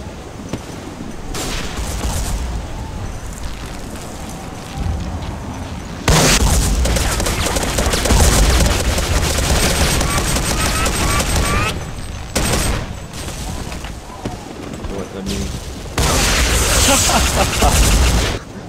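Loud gunfire from the shooter game Day of Defeat fills the scene: rapid bursts and booming blasts, with bazooka shots mixed in, coming in dense surges that stop and resume, close and harsh throughout.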